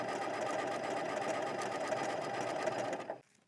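A sewing machine stitches a stretch buttonhole with a buttonhole foot while the fabric feeds back and forth. A steady, close, rapid mechanical whir runs for about three seconds, then stops and leaves near silence.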